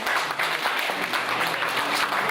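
Congratulatory applause at a best-person awards ceremony, a dense, steady wash of many hands clapping from a full audience, loud and continuous throughout.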